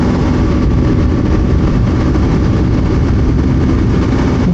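A KTM Duke 200 motorcycle engine runs at 8000 rpm in sixth gear at about 100 km/h, a loud steady drone mixed with heavy wind rush, unbroken throughout.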